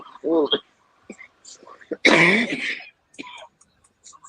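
A harsh cough bursts out close by, with scattered throat sounds and brief voiced noises around it.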